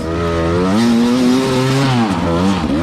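A hard enduro dirt bike engine, overheating and spewing steam, revs up and down in wavering pitch sweeps, close and fairly loud, with no talk over it.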